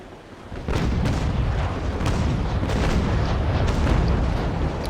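Naval cannon fire from the game Naval Action: after a quieter lead-in, a rolling barrage of booming shots and crackling blasts sustains loudly for several seconds, with no talk over it.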